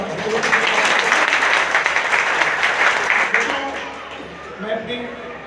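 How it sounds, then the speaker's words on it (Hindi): Loud applause from an audience at a community gathering, a dense steady clapping that fades after a few seconds, with a voice speaking faintly near the end. "एक बार चाहता हूँ जोरदार तालियों से"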